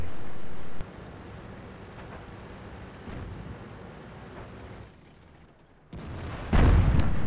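Artillery rounds falling in World of Tanks on the Sand River map, heard as a sustained rumble of distant booms with sharp impacts around 1, 2, 3 and 6.5 seconds, the last one loudest and closest.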